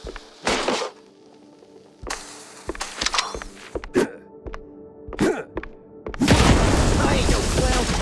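Firecrackers stuffed into a wooden attic burst in a video game, several sharp separate bangs and thumps spaced irregularly, followed by a loud sustained crackling roar near the end.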